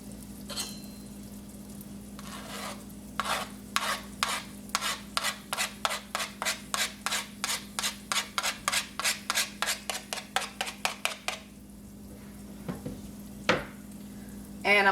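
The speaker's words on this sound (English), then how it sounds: "this is the time that I'm going to go ahead and add my lemon zest" Lemon zest is rasped off a lemon on a grater in a home kitchen, an even run of about two dozen quick scraping strokes over a low steady hum, then a pause and a couple of stray scrapes.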